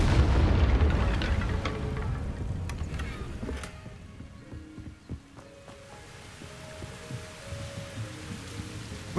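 An Incendio fire spell cast in Hogwarts Legacy lands as a deep, booming burst at the start, then sinks into a low rumbling hum with scattered faint clicks and thuds.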